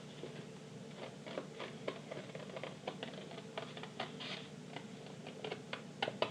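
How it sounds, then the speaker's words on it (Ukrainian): Small scissors cut a paper egg shape along a pencil outline for a pysanka greeting card, a quiet run of quick, irregular snips and rustles heard up close with no talking. "теперь я беру ножички и вырезаю яєчко"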